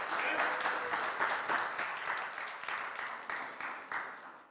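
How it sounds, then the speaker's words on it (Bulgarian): Audience applause greets a speaker introduced at a Linux and eBPF tech talk, a steady wash of many hands clapping in a hall that swells briefly and then gradually thins out. "Моля аплодисменти за Димитър!"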